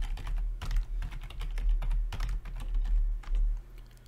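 Computer keyboard typing during code editing: quick irregular bursts of close key clicks and taps with brief pauses, alone and fairly quiet.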